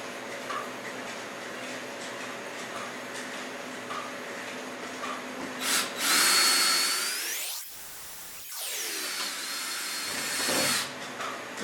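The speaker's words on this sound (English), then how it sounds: "We'll start off with a couple of pilot holes and drill the 1/4-inch hole after." A power drill boring pilot holes during a Frantom rock saw repair, whining up to speed, dropping briefly, then spinning up again at close range over a low workshop hum.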